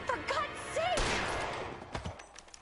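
Gunfire in the crime video game L.A. Noire: a quick burst of shots cuts sharply into the scene, with a raised voice and tense sounds before it and scattered sharp cracks trailing off afterward.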